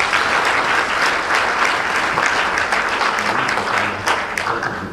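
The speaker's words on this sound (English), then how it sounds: "Can we please give him a round of applause?" Loud, dense round of applause from a crowd at a government cash grant event for vulnerable residents, steady and sustained throughout before easing slightly at the end.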